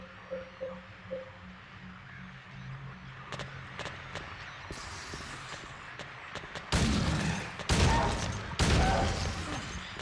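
Handgun shots in the survival horror game Silent Hill 2, several loud sharp reports in quick succession following quieter in-game ambience and clatter.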